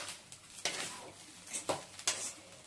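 A spoon scrapes and clinks against a pot while mint rice is stirred to mix in salt, a few soft, irregular strokes, close and quiet.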